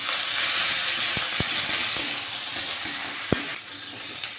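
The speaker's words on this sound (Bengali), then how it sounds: "এবার এভাবে একটুখানি ভাজা ভাজা করব" Chopped onion, garlic, ginger and chilli with a pinch of asafoetida fry in a pan with a dense, steady hiss. A few soft knocks of stirring sound close by.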